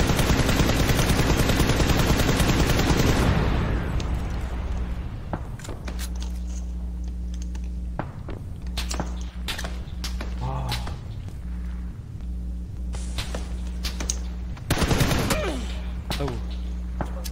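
Rapid bursts of gunfire from a PlayerUnknown's Battlegrounds match on Xbox, with sharp shots scattered throughout and a heavy volley near the start, heard under steady game background noise and players' voices.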